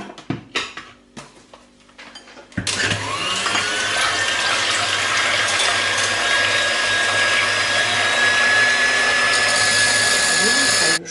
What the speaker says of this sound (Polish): I teraz białka ubijamy z cukrem na sztywno.